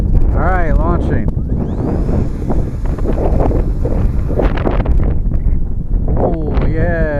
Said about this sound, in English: warbird out here in some significant wind